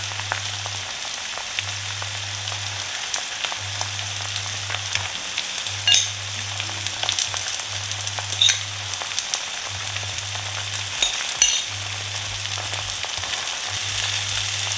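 Pesto eggs topped with salt and feta fry gently in a pan over lowered heat, a soft continuous sizzle with occasional tiny pops and crackles, close and steady, a low electrical hum pulsing beneath, no talking.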